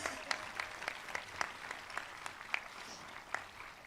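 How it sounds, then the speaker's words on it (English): Families at a kindergarten graduation clap in a modest round of applause, with sharp individual claps standing out over a softer, thinner bed of clapping at middle distance. "We need a round of applause just for that."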